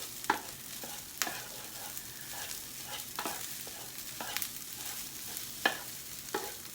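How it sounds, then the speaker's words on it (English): Fried rice sears and sizzles in a hot pan, a steady close hiss broken by sharp scraping clicks as a utensil stirs and tosses it every second or so. "So you're kind of like toasting the rice, not toasting, but getting a little sear on it"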